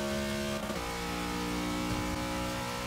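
A Buick Regal accelerates in the racing game Forza 6, a dense, steady engine drone with rising harmonic tones, loud and continuous without pauses.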